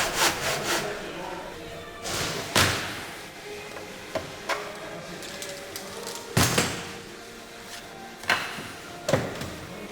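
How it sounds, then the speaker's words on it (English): Tenon saw cutting skirting board clamped in a miter box: rasping back-and-forth wooden strokes, rhythmic at first then spaced out, with a few sharp louder knocks and scrapes between strokes, close and clear without talk. "Clamp the skating into the miter box and with a tenon saw cut straight down your line"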